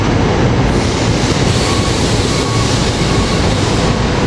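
Rail cars rolling steadily through 30th Street Station at rush hour, a loud, continuous rumble with rhythmic wheel clatter and faint squeal, close by with no voices.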